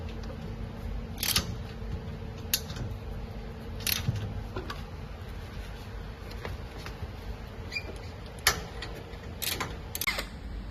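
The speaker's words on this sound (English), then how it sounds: "use the spanner to fix these 6 screws tightly." A spanner tightens six screws on the long bottom piece of a cabin, giving sparse, light metallic clicks and ticks spaced a second or two apart over a faint background hum.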